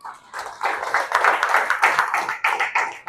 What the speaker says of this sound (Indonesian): Tepuk tangan dong buat Rehan.